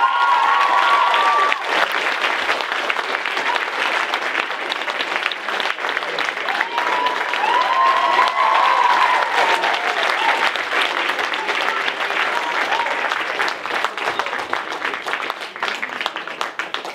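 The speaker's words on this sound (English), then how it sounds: "Give a round of applause, not just to all their dance teachers" Applause from the audience at a 2022 dance show, steady dense clapping that lasts throughout, with scattered cheers and whoops rising over it.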